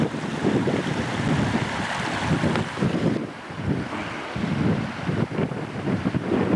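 Wind and sea waves on the Scottish coast beside a basic youth hostel: a steady, close roar of surf with heavy wind buffeting the microphone, swelling and easing in gusts, with no voices.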